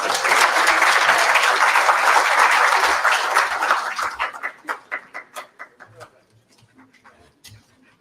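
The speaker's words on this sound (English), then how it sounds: "Another round of applause for our guests this afternoon" Conference audience applauding, a dense burst of clapping that thins over several seconds into a few scattered claps before fading out.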